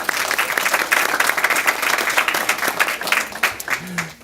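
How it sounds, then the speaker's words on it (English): A school board meeting audience gives the parents a big round of applause. Dense, sustained clapping fills the room with a steady wash of hands that thins slightly toward the end, and faint voices sit underneath. "let's give our parents a big round of applause as well"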